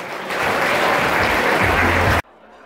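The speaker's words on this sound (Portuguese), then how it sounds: "Uma grande salva de palmas para todos vós." Crowd applauding in the basement of Santa Cruz Portuguese Catholic church in Montreal during a festival, a loud, dense burst of clapping that cuts off sharply before a quieter room tone.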